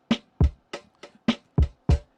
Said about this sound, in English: this is the majority of the drums